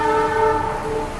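A train passes near a coffee shop, its horn sounding as a loud, sustained tonal blast over a rumbling background.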